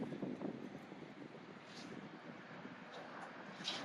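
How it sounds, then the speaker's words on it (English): Wind buffets a microphone on a rooftop, a steady, fairly faint rushing roar with uneven gusty swells throughout. "Sorry about all the wind"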